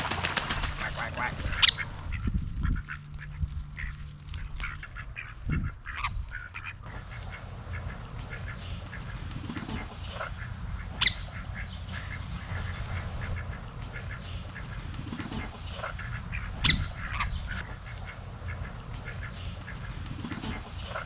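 A group of ducks quacks repeatedly in a busy, noisy outdoor setting, with irregular honking calls rising over a steady background hum.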